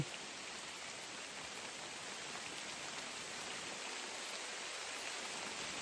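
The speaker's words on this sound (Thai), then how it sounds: "อ้าวแล้วไอพี่ฝนตกแรงึ้นแล้ว" Heavy rain pours down in a forest in a dense, steady hiss that stays constant and unbroken throughout, with no voices.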